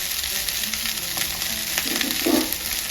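Coriander rice sizzles steadily in a hot pan as a spoon stirs through it, with a continuous frying hiss and a few soft scraping stirs near the end.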